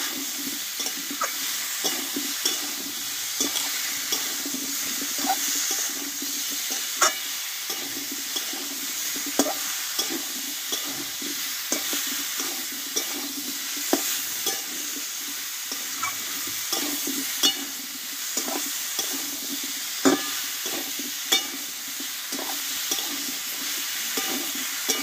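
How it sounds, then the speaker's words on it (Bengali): Pumpkin and tomato are stir-fried with salt and turmeric in a vegetarian Bengali panch phoron dish. A constant loud sizzle runs throughout, with frequent spatula scrapes and taps against the pan. "লবণ হলুদ দিয়ে এবার ভালোভাবে একটু কষিয়ে নেব,"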